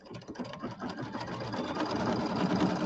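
Embroidery machine stitching a spring settee pillow design, a steady rapid mechanical chatter of needle strokes at moderate volume that grows slightly louder, with no talk.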